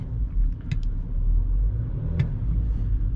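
BMW X5 E70 3.0 SD twin power turbo diesel with 286 HP accelerating through city streets, its deep engine rumble building steadily, heard from inside the cabin with a couple of faint clicks.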